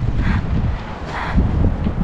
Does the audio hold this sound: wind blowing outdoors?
yes